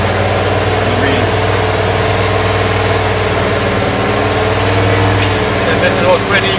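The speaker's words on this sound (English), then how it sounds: "So this is what we call idle" A car engine runs at steady idle during an exhaust gas emissions check with a magnetizer fitted, a continuous low hum with even harmonics throughout, talk audible over it.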